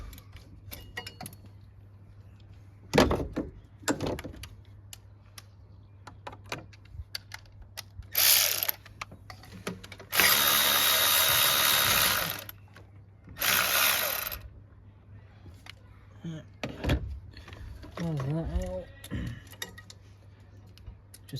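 A power tool with a 13 mm socket undoing a bolt on a Ford 1.0 EcoBoost engine during head gasket work, several loud whirring bursts between ratcheting clicks and metallic handling noises, close up.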